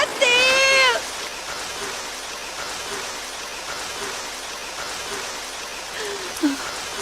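Rain falls in a Doraemon cartoon as a steady, even hiss of drops that runs the whole time, with a short voice at the start and a brief exclamation near the end.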